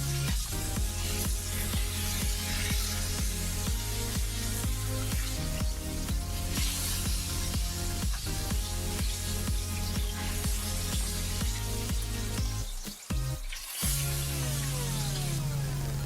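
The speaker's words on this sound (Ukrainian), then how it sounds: "обсмажуємо наше м'ясо з кожної сторони по 40 секунд" Loud continuous sizzling of meat searing in a hot pan, with constant spattering and crackle and a brief clatter near the end.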